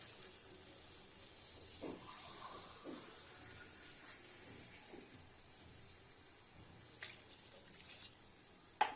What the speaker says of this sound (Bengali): এবার আমি জল দিলাম।